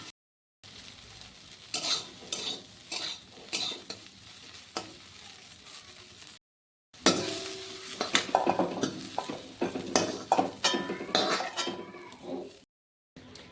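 Soybean chunks with turmeric and salt fry in a pan, giving a close steady sizzle with repeated stirring scrapes and clinks, briefly cut off twice by silent gaps.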